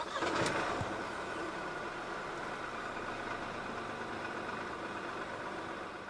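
A 2021 Proton X50 1.5T Executive is started by push button with a brief cranking burst, then settles into a quiet, steady idle that hums on softly for several seconds.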